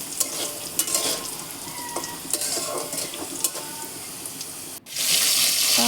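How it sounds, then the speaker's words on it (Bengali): Potatoes fry in hot oil as whole spices (cardamom, dried chillies and bay leaf) are tossed in. A loud, close sizzle keeps going throughout, broken by scraping stirs, then a brief dip and a fresh hissing surge. "তার কারণে আমি আলুটা কষিয়ে তারপরে ফোড়নটা দিয়ে দিলাম"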